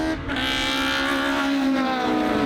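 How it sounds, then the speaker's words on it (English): The Castle Combe race car numbered 93, a finely tuned machine, passes with a loud, sustained engine note whose pitch climbs and then eases. No one speaks over it. "Oh, the engine notes, that beautifully tuned 93 of Corey Webber."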